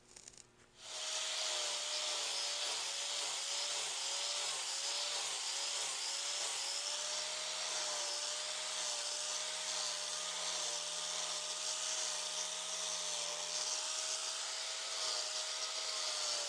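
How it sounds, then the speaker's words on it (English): Angle grinder cleaning up a freshly cut fender flare area on a 5th-generation Toyota 4Runner, a loud, steady high-pitched whine with grinding rasp that runs unbroken and close for the whole stretch, with no talking. "get this whole area all cleaned up with the grinder"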